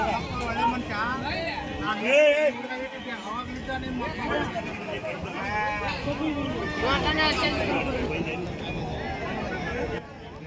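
Rams bleat repeatedly at a busy outdoor sheep market, their wavering calls rising over a constant babble of nearby voices and people talking.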